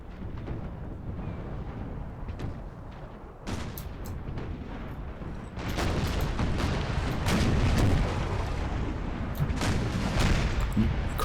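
Ship cannon broadsides in the Empire: Total War naval battle game, a dense rumbling barrage of overlapping booms that swells louder midway, continuous and heavy with no talk over it.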